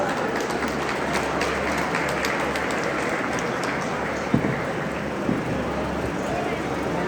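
An audience applauding at a college student council award ceremony, dense steady clapping from a crowd in a hall with a low hum underneath.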